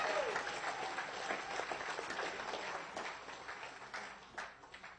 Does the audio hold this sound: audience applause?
yes